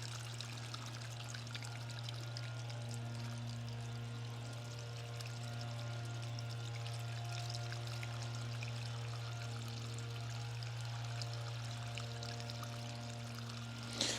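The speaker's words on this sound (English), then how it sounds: "this is way more water than what normally comes out." Water pours steadily from an underground irrigation line feeding a blueberry field, a continuous rushing stream with a constant low hum beneath it.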